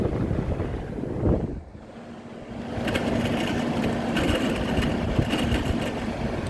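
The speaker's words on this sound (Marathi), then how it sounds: "मोटर पाण्याची मोटर ते चालू आहे." A water pump motor running, a steady close hum with a faint whine under wind-like rushing noise, no talk.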